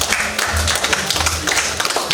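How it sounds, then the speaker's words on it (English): Audience at a community-led health monitoring regional dialogue meeting in Busoga, Uganda, giving a round of applause, dense steady clapping at close range with a few voices underneath. "let us give them a round of applause"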